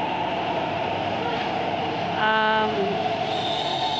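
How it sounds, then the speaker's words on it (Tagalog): A train pulls into a station in Fanling, Hong Kong, its steady broadband rumble running throughout, with a brief tonal squeal of brakes or horn midway, and people chat over it. "Sasakay na tayo ng train."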